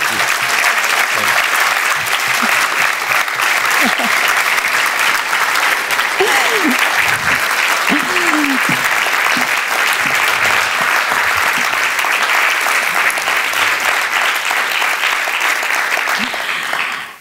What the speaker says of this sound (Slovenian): Gospod Miha, tale aplavz je bil najbrž namenjen vam